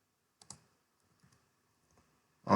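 Mouse clicks from a computer running Revit software, heard as a few sparse, soft, near clicks spread over quiet, ending in a louder click.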